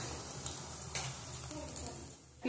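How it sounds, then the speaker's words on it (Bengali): Lentil fritters (bora) fry in oil over a low flame, a quiet, continuous sizzle with a few small clicks and taps from stirring, heard close and faint. "বড়াগুলো ভাজা হবে।"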